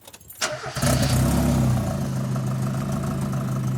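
Red sports car with a leaky exhaust and a new air filter starting up: a brief starter crank, then the engine catches with a loud rasping burst before settling into a steady rough idle, close by.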